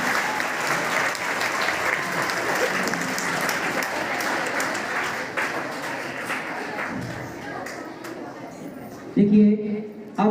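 An audience at a school Children's Day programme gives loud, sustained applause for the arriving chief guest, with dense continuous clapping through most of the stretch, thinning near the end as a few louder thumps and a voice come through.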